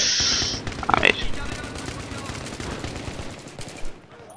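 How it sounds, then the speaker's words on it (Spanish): Gunfire in the video game Battlefield 3, rapid bursts of shots cracking in quick succession at moderate distance, running steadily under game noise with a couple of sharper louder hits. "oigo disparos de esta dirección"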